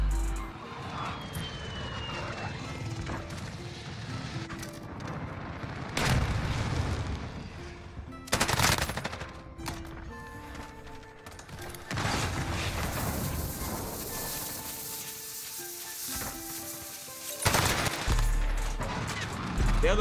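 Encryption MK9 light machine gun fire in a Modern Warfare match, heard as scattered bursts and booms amid game noise, with a voice talking at times.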